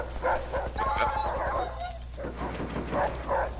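Dog barking and lunging to attack in a first-person shooter game on the Courtyard map, short sharp barks over a steady low game hum, with someone talking through much of it.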